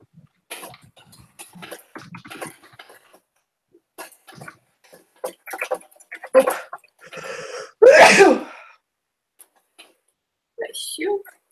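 A person sneezes once, loud and close, in a quiet room during an online writing session, with scattered talk and small movement noises before it and a brief voice afterward.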